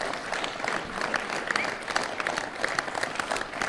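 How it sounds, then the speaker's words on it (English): Spectators clap steadily at a short mat bowls final at the Norwegian Open, a continuous patter of applause from an indoor crowd with no voices standing out. "again, appreciation for the crowd for a good bowl"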